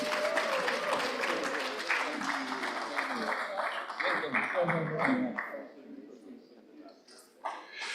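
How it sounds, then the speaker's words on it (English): An audience at an economic conference session late in the day claps, a steady wash of applause lasting several seconds that fades toward the end, with a voice speaking over it. "So please give yourselves a round of applause."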